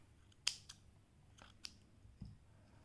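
Scissors snipping crochet yarn: a few faint, sharp clicks and snips spaced apart in a quiet room, with no talking.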